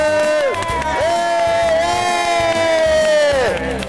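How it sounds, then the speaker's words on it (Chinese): A cruise-ship audience cheers to welcome the top five finishers of a sports day, with loud, sustained crowd whoops and shouts rising and falling close by. "前五名，掌声欢迎各位"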